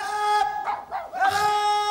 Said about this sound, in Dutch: Wat is er toch met die hond aan de hand?